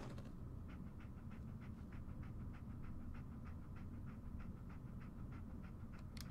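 Dogmeat, the German Shepherd companion in the video game Fallout 4, pants steadily in quick rhythmic breaths, close and fairly faint over a low ambient game hum.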